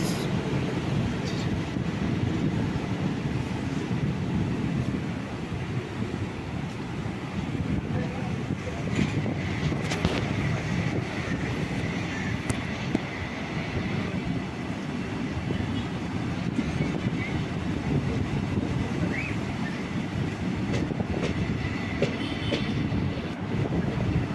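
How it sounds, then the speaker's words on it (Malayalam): A Tirunelveli Express passenger train on the Thiruvananthapuram to Kollam stretch rolls on with a steady, loud rumble and faint clickety-clack of the wheels, unbroken for the whole stretch and without talk. "ഇപ്പോൾ തിരുനെൽവേലി എക്സ്പ്രസ് ട്രെയിൻ നമ്പർ 195/78"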